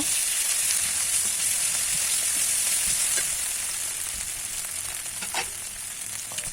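Onion and garlic frying in a pan as ginger, cumin and chili pastes are added, a continuous bright sizzle with soft stirring sounds and a brief clink near the end, no voices.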